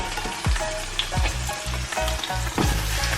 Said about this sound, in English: it's gonna start to sizzle like that.